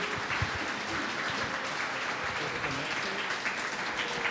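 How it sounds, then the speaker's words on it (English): Live show audience applauding a guest, former Packers player John Kuhn, with a dense, sustained roar of clapping that stays loud and even throughout and a few voices mixed in. "How about a round of applause for the General tonight?"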